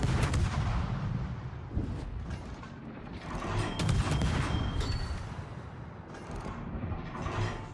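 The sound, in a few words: ship gunfire in World of Warships video game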